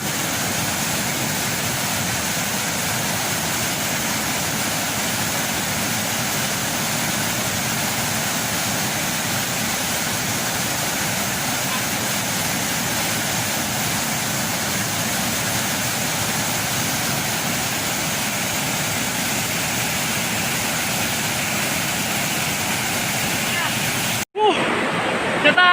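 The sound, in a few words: waterfall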